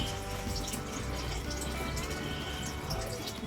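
Water pours into a pot of vegetable sambar, a close, steady splashing gush with a full, churning wash that runs unbroken for a few seconds.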